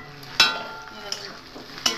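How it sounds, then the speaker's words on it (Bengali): Fried eggplant and onions sizzle in a pan with green and red chillies, a steady low crackle broken by a few sharp spatula scrapes and knocks against the pan. "ভেজে রাখা বেগুনটা পেঁয়াজের সঙ্গে হালকা ভেজে নেবো।"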